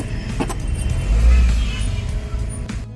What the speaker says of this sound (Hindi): और रास्ते में बहुत ज़्यादा ट्रैफिक मिलता है